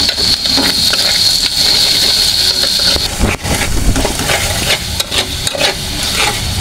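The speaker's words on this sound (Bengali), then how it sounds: "আমার চিংড়ি মাছটা কষানি হয়ে গেছে" Shrimp sizzle and fry in a hot pan for shrimp bhuna, with steady close frying hiss, stirring scrapes and a brief clatter of a spoon against the pan, continuous throughout with no talk.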